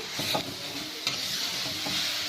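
Cluster beans (goru chikkudukaya) fry in a pan with a steady close sizzle. A spatula stirs them, scraping in a few distinct strokes, and no one speaks.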